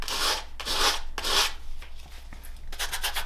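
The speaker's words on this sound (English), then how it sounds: "So just a little sandpaper here will take care of that." Sandpaper rubs back and forth along leather edges in steady strokes, close up and fairly loud with a few quicker scrubbing passes near the end and no talking.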